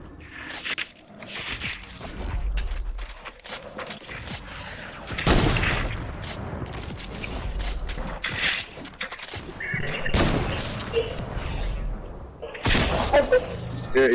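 Gunfire in the video game Fortnite, with rapid bursts of shots and sharp impacts scattered through the clip, some loud and close, mixed with footsteps while players talk over it.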